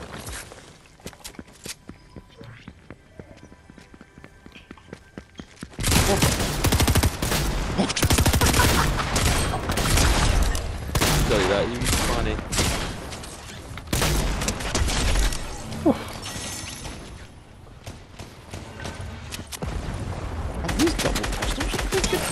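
Double pistols fire in rapid, overlapping bursts during a Fortnite match, loud and dense after a quieter stretch, with scattered footsteps and game noise around them.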